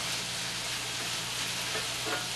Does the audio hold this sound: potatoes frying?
yes